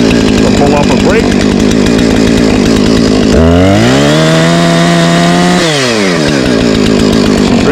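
Husqvarna 455 Rancher chainsaw running loud and close, idling with a rough rattle before revving up to a sustained high whine, then dropping back to idle.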